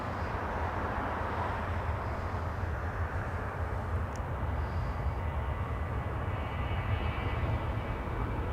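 A Southwest Airlines jet heading for Las Vegas takes off from runway 24 at Los Angeles International Airport, its engines a steady, broad roar that holds at an even level from start to finish, with no talk.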